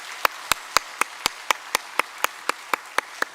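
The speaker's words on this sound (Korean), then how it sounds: "우리 박수로 환영하겠습니다." A church congregation claps to welcome newly registered members at a Sunday service: sharp, evenly spaced claps in a steady unison rhythm, about four per second, crisp and moderately loud with no talk.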